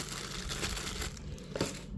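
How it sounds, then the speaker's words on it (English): A thin plastic bag from the box of a wireless Apple CarPlay and Android Auto media player crinkles and rustles continuously, close and fairly quiet, with a slightly sharper crunch near the end. "And here's the plastic bag that came with it."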